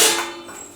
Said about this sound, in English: Sorry about the noise. And get your cupcake trays out of your cupboard